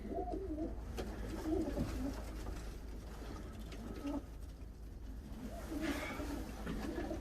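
Pigeons in a loft, including older birds, coo in low repeated rolling calls, several birds overlapping at close range over a steady background hum.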